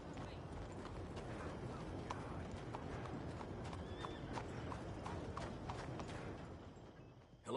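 Horse hooves clip-clopping in a PS4 video game, a steady continuous patter of hoofbeats with a constant rushing ambience underneath; moderately quiet and sustained throughout, fading slightly at the end.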